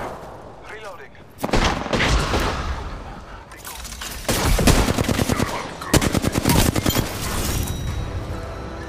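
Automatic and rapid gunfire in the video game Apex Legends, loud bursts and volleys coming in several waves, with a voice speaking faintly underneath.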